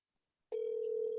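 A steady telephone tone heard over speakerphone while a call is placed, beginning abruptly after a brief silence and holding one loud, unbroken pitch to the end.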